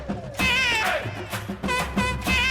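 Several short, high-pitched cat meows over a busy backdrop of music and other sound, fairly loud and close.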